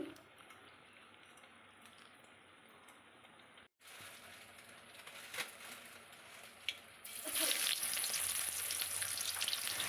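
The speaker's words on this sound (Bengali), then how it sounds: "আমি এক এক করে তেলের ওপরে মাছগুলো দিয়ে দিলাম" Fish, two large ones of over a kilo each, fry in hot oil with a continuous crackling sizzle that briefly cuts out, then returns louder and hissier as more pieces go in.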